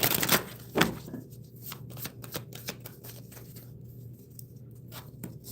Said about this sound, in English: I want to shuffle more.